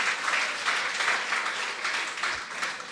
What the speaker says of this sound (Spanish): Sí, una fuerte ofrenda de aplauso al Señor